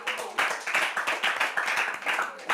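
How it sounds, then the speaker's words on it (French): An audience at a Bible quiz final claps together in a dense, steady burst of hand claps lasting a few seconds, close and fairly loud, with no voices over it. "On peut applaudir très fort."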